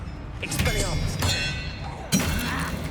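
Expelliarmus spell cast during Hogwarts Legacy combat, a sharp crackling burst with a thud-like impact, followed by a second strong hit near the end, amid dense magical effects and game noise, with speech-like sound in the mix.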